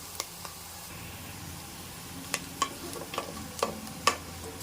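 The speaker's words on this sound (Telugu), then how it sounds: "ఎర్రగా అయ్యేంత వరకు ఫ్రై చేసుకోవాలి." Onions, cumin, green chillies and curry leaves crackle in a hot tempering, a soft, steady sizzle with several clear stirring scrapes toward the end.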